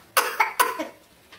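A few short, sharp coughs in quick succession, as if from a piece of Frito stuck in the throat, close and fairly loud, trailing off into quiet.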